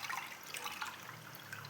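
Sieved maida mixture pours into jaggery syrup while making black halwa, a soft, quiet trickle and liquid splash that runs steadily throughout.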